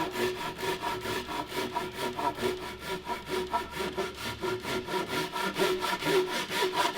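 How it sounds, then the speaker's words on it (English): A Japanese pull-stroke handsaw cuts through wood in a steady run of rhythmic rasping strokes, close and fairly loud, with no talking. "the genius of the Japanese handsaw is that it cuts on the pull stroke"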